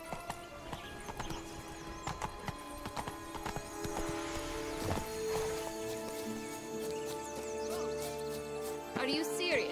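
Roach, the horse in the Witcher video game, trots with steady hoof clip-clops and neighs toward the end, under game music and ambient effects, with some talk mixed in.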